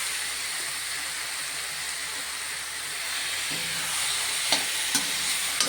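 Chicken pieces sauté with softened tomatoes in a pan, giving a continuous soft hiss and sizzle, joined near the end by a few sharp clinks and scraping stirs.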